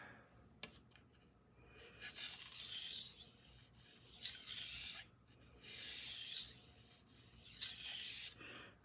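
Knife blade drawn across a sharpening stone in light cleanup passes along the bevel, a soft gritty rubbing that swells in several long strokes and pauses between them, close and fairly quiet.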